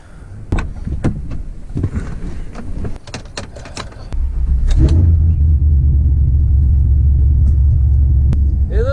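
A few clicks and rattles inside a cab, then a Chevy Silverado SS pickup engine cranks and catches, settling into a loud, steady idling rumble.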